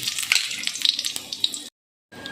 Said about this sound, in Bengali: ওই মাছ ভাজার তেলেই কিন্তু আমি পাঁচ ফোড়ন আর দুটো শুকনো লঙ্কা দিয়ে দিচ্ছি